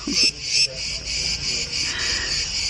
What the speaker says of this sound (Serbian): svuda oko nas, mislim i na terasici i ovdje kraj bazena, ne znam, da li su neke ptice, cvrčci